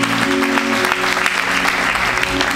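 A church congregation applauds steadily, a loud, dense wash of clapping with a sustained tone underneath throughout.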